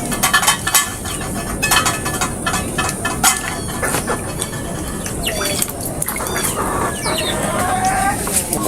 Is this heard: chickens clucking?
yes